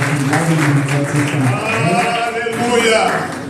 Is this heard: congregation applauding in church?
yes